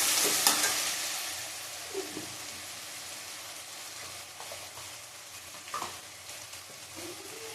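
Ground spices, ginger and browned onion for Bengali chicken kosha sizzle steadily in a pan, with a few spatula scrapes as the mixture is stirred. The sizzle is close and continuous.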